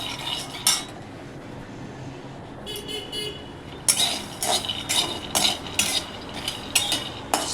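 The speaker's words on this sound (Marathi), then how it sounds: "आता मी टाकणार आहे शेंगदाणे भाजायला।" Peanuts dry-roasting in a pan over a low flame, rattling and scraping in short irregular bursts as they are stirred, with a quiet hiss between bursts and no voices.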